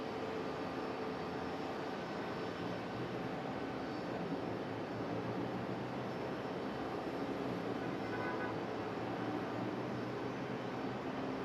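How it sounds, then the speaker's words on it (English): An American Airlines Boeing 777-200 jet departs for London Heathrow, its engines a steady, distant broadband roar held at an even level throughout. "that's the American 777-200 headed back to London Heathrow"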